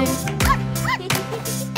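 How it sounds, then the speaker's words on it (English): A cartoon dog barks and yips several times in quick succession over bright music in a children's nursery rhyme about a farmer's dog. "There was a farmer who had a dog, and Bingo was his name O."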